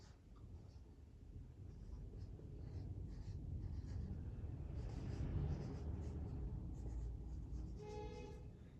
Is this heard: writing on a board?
yes